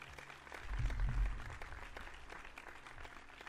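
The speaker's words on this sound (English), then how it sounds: "I'm going to indulge myself with a round of applause" A round of applause sound effect plays: a short burst of crowd clapping that swells quickly, holds, then tapers off slightly over a few seconds, without any voices.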